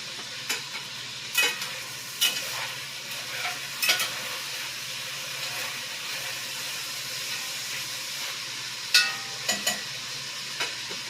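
Meat sizzles and fries steadily in a pan at moderate loudness, with occasional sharper crackles and spatters over a continuous hiss; no voices are heard.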